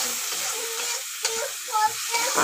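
A spice masala with cumin and chili powder is stir-fried in a wok for chicken kosha. Spatula scrapes and shuffling stirs come in short bursts over a light background sizzle, close by and without talking.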